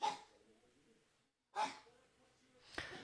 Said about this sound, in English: My dog is struggling over here.